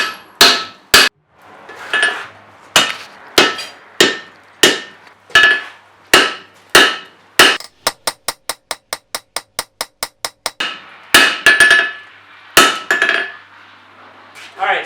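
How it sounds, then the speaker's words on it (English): A hammer forges hot steel to thin down a Viking axe, loud ringing blows struck one at a time with short pauses, then a fast even run of lighter strikes before heavy blows return. "So I'm cross beaming it out to thin it down."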